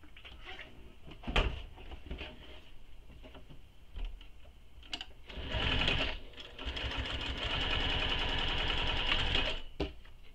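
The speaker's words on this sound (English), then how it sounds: "So I'm just top stitching down the length of all three." A sewing machine top stitches down the length of three backpack pieces, running in short bursts at first and then in a longer, steady whirring run, with intermittent clicks and handling knocks between.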